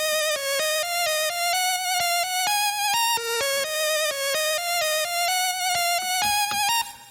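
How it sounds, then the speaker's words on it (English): A bright synth lead with a low-pass filter opening up, playing a rhythmic pattern of short, distinct plucked notes over a low sustained bass tone, loud and upfront for several bars. "for the lead, I have a low-pass filter that opens up."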